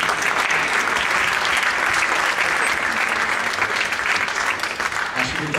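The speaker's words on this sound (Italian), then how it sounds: "questo è l'applauso" An audience breaks into sustained, steady applause that fills the room evenly from start to finish, dense and unbroken.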